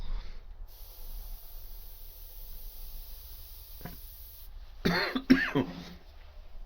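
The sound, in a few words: cough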